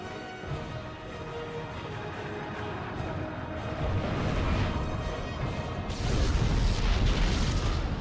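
A nuclear explosion roars in a real-time strategy game, a long dense rumble that swells and then jumps louder toward the end, heavy and sustained with no talking over it.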